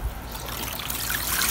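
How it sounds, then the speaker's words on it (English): Water splashes and trickles steadily at close range, a continuous bubbling pour with no voices. "So you can pour the water inside."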